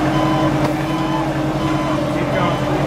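A forklift working around a demolition derby car sounds a steady, loud reversing beep over a rumbling engine, with voices talking nearby.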